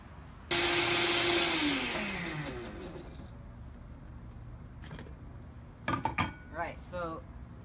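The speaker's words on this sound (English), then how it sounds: "Then you want to blend ingredient A and ingredient B." A blender starts up abruptly and runs loud, whirring as it blends ingredients for Malaysian black beef curry paste, its pitch falling as the load eases, then a few clicks and knocks follow near the end.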